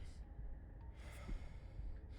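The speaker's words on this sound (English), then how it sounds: "Again, your eyes shoot open as you gasp for breath." A sharp gasp for breath in Slay the Princess, brief airy intakes and breathy sighs heard faintly against a low background, with no speech.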